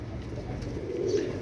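Low, soft pigeon cooing, steady and close, with a slight swell near the end and a quiet hum beneath.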